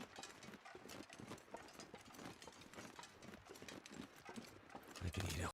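Horses run about, their hooves clip-clopping in a quick, uneven rhythm that stays faint and distant, with speech mixed in.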